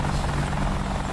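An AH-64 helicopter in the video game DCS gives a steady, loud engine drone with a low rotor throb, constant and close, with no speech.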